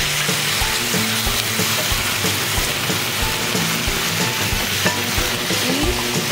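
Food sizzles and fries steadily in a pan while being stirred and turned with a seasoning dressing, loud and continuous with scraping clatter and no talking, during preparation of Piura-style atamalado.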